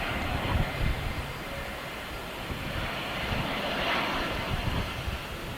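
An easyJet airliner landing at Luton Airport gives a broad, steady jet roar that swells slightly midway, heard from a distance outdoors with no voices.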